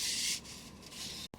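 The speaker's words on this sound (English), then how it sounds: "I've been doing a bit of sanding." A hand sanding a model aircraft fuselage prototype makes a steady, close, hissing rub. It runs in a long stroke and then a second one, stops abruptly, and no one speaks.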